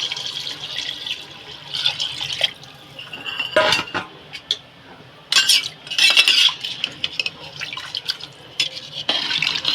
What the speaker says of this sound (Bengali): নেড়ে ছেড়ে দেবো এবার।